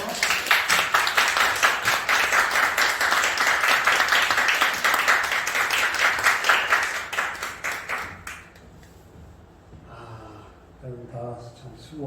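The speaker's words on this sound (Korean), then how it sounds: "박수로 축복해 주세요." Congregation applauding during a Sunday church worship service, dense steady clapping filling the room for about eight seconds before fading into scattered claps and murmuring voices.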